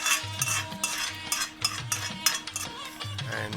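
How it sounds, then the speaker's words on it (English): Tamarind rice sauce (puli kaachal) with tempered spices and dal being stirred in a pan, a steady rhythm of scraping and clinking spoon strokes against the metal, close and moderately loud with no talk. "and give it a quick mix"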